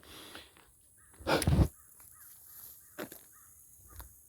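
Crow caws outdoors at an Indian mound site in Mississippi, one loud close harsh caw followed by a couple of fainter calls, with quiet birdsong in the background.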